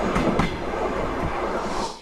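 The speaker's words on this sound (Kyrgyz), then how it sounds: "Мына ушинтип ишембидеги жалгыз поезд узап кеткен соң перрон кийинки аптага чейин энсиреп турат." A passenger train pulling away from a rural station, a steady rumbling roll with rhythmic wheel clatter that gradually fades as it recedes.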